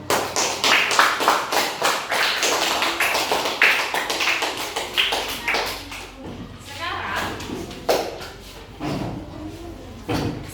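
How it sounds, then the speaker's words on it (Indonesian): Children clapping in a classroom, a series of sharp rhythmic claps that loosen and thin out toward the end, with a teacher's voice and children's chatter close by. "Tepuk tangan buat Dita."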